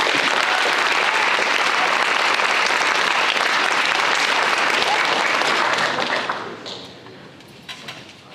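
Audience applause at a high school signing day honoring a student athlete, a dense sustained roar of clapping that fills the room, then thins out and trails off into scattered claps near the end.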